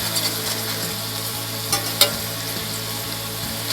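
Thai meatballs sear in a hot pan with a loud, steady sizzle, with occasional clicks and scrapes from a utensil and no talking.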